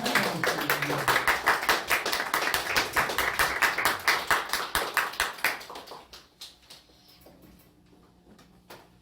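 Congregation clapping to welcome a pastor before a lecture, a lively round of applause with a distinct rhythmic beat that fades out after about six seconds, leaving a quiet room.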